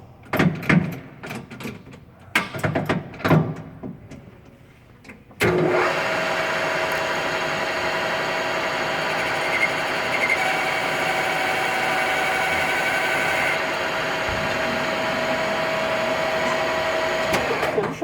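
A metal lathe spun in reverse at raised speed to re-chamfer a knurled part, starting abruptly after a few seconds of clatter and brief talk, then holding a loud, steady machine whine and hum to the end.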